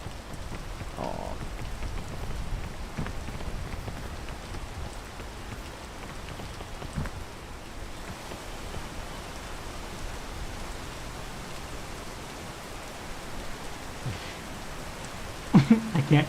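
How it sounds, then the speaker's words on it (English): Steady rain falls outdoors in a video game, a continuous even hiss of drops on surfaces throughout, with a few brief louder knocks near the end and no talking heard. "Yeah, man. It's raining."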